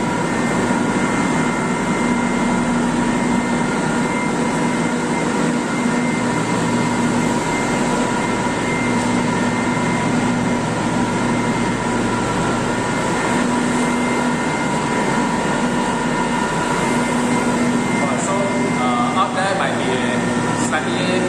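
Pumps at a water treatment plant, some on variable frequency drives and others on soft starters at fixed speed, run as a loud, steady mechanical drone with a constant hum, unbroken throughout, with voices speaking over it.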